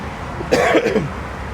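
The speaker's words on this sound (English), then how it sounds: "Apologize about the cough." A single short cough, close and fairly loud, over a faint steady background hum.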